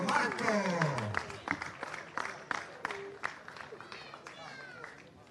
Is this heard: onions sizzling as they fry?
no